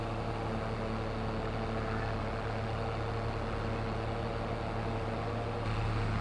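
A tractor with a mower attached grinds up a very steep slope, the engine holding a heavy, even drone layered with mower clatter, close by and unbroken, edging slightly louder near the end.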